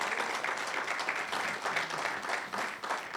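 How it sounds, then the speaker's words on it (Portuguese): A church congregation claps in praise during a sermon, a steady, moderately loud patter of many hands filling the whole stretch without pause. "aplauda o Senhor, porque Ele está conosco"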